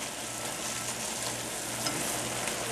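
Tomatoes cook down in a pan with a steady, close sizzle and bubbling crackle, a continuous frying hiss with no talking.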